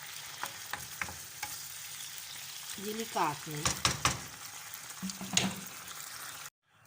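Food sizzles and crackles steadily in butter in a pan, a continuous frying hiss with a few clicks and knocks, while a voice speaks briefly over it.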